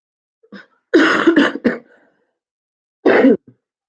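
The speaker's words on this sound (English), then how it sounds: "I still got that cough" Several harsh, throaty coughs come close together, followed after a pause by one more loud cough, all up close with silence between.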